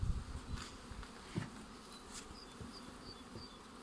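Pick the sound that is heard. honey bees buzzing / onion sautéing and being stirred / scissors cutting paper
honey bees buzzing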